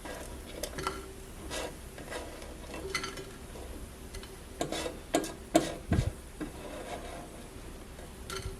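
Cooked potatoes lifted off a Dash Flex Press grill griddle: soft scrapes, rubs and light clicks of a utensil against the hot plate, quiet and close, growing busier with a few sharper knocks near the end.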